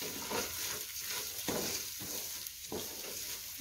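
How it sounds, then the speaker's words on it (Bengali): Raw rice frying in a pan with whole spices and ginger-garlic paste for pilao: a steady, close sizzle with stirring swishes pulsing roughly every half second. "চালটাকে কিছুক্ষণ আমি এই আস্ত মশলা এবং আদা রসুন বাটা দিয়ে কিছুক্ষণ এরকম করে ভেজে নিব।"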